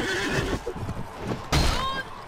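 A horse neighs in the Mount and Blade Warband video game, giving a loud, close whinny with hooves clip-clopping beneath it, then a second sharp whinny near the end.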